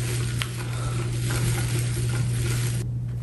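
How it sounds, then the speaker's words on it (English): A flour mixture stirred in a pot makes a steady sizzling hiss with soft scraping, against a constant low electrical hum, and drops away sharply near the end. "I'm just gonna stir it with this."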